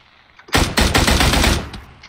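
A loud burst of rapid automatic gunfire from enemies in an online shooter video game erupts after a quiet moment, lasting about a second before tapering off.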